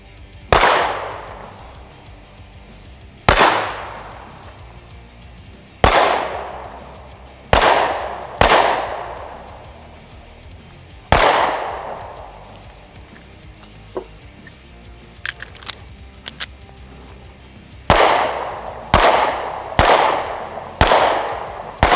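A Springfield Armory Hellcat micro-compact pistol fired repeatedly outdoors: about a dozen loud, sharp shots with ringing decays, spaced a second or two apart, some in quick pairs, with small metallic clinks between them.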